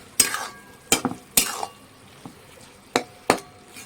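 A spoon stirs radhuni, mustard and ginger in a cooking pan, giving a handful of sharp, separate scrapes and knocks against the metal over a faint background sizzle.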